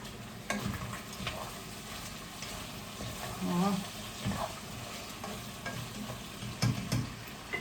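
Onion and meat fry in a pan for Uzbek pilaf with a steady sizzle, broken by stirring scrapes and a few sharper clatters. A voice speaks briefly over the cooking.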